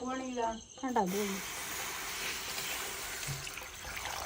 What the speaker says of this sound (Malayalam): എനിക്ക് കുറച്ച് വെള്ളം ഒഴിച്ചു